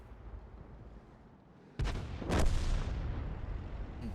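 A tank gun fires in World of Tanks: after a quiet stretch, a sudden heavy boom is followed by a second sharp blast and a long rumbling tail that carries to the end.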